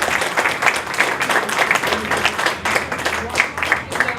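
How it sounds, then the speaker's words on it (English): A small crowd at a candy store event in Hollywood gives a round of applause: loud, close, lively clapping with uneven bursts, continuing steadily throughout with a few voices mixed in. "Give her a round of applause."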